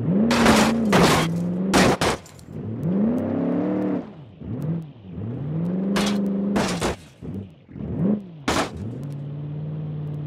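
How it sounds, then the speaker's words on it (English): A crawler vehicle in the car-design game Automation spins its wheels, the engine whining and rising in pitch in repeated revving surges, broken by sharp bursts of noise and brief dips between efforts. "I'm still wheel spinning."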